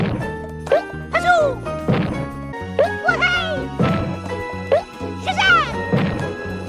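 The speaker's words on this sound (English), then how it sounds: "I do love the sounds he makes when he tail whips and stomps." Croc from the video game Croc: Legend of the Gobbos repeatedly whips his tail and stomps, producing springy whacks and thuds with cartoonish swooping chirps in a bouncy rhythm, several in quick succession over a backing melody.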